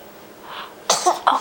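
A baby makes a short sharp sneeze, close and fairly loud, followed by a second brief burst after a small pause.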